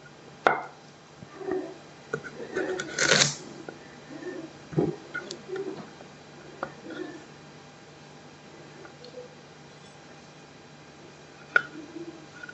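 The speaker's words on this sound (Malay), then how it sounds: "kita potong carrot" Carrots are chopped with a knife on a board for a squid and vegetable stir-fry, giving scattered sharp taps, some close together and some well apart, fairly faint throughout.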